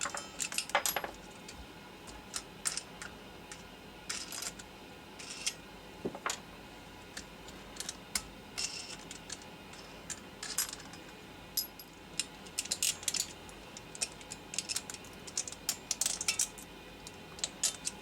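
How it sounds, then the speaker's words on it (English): Metal wing nuts and washers are pulled off a Thumlers Model B rock tumbler, giving faint scattered clicks, ticks and small metallic clinks at close range with no speech. "you're going to go ahead and pop off all the wing nuts here and your washers"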